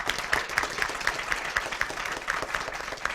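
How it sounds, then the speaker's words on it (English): A school district spelling bee audience applauds a contestant, a steady patter of many hands clapping at moderate distance, even and sustained with no voices over it. "A round of applause"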